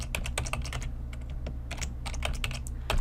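Fingers type quickly on a computer keyboard, a dense run of crisp, close key clicks with brief pauses, no voices.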